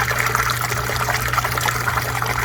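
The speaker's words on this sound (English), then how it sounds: "And basically, I let it backwash until it runs clear." Water gushing steadily out of a large 600-gallon aquarium's filter during a backwash, a continuous close, broadband splashing flow under a low pump hum, with no voices.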